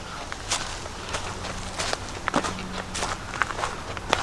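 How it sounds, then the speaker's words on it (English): Footsteps walking on pine needles in a pine forest, a steady pace of soft crunching steps close by with a faint rustle between them. "I love walking on the pine needles."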